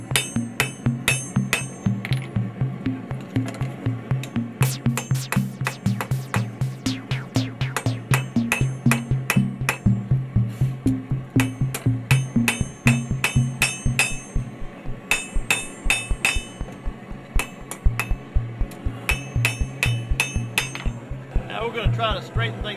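Hammer blows forge the tang of a Scagel-style knife blade in a steady run of ringing metallic strikes on hot steel, loud and near, with brief pauses between bursts and no talking.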